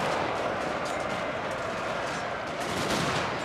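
Dense, continuous musket gunfire from a Total War: Shogun 2 Fall of the Samurai battle, a steady crackling roar of overlapping volleys held at a loud level throughout.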